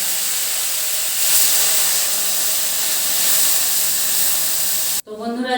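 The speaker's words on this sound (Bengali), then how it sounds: "জল দিয়ে দিয়েছি আমি" Loud, steady hiss and sizzle as water hits a hot pan of cooking greens and small fish, holding for about five seconds before cutting off abruptly.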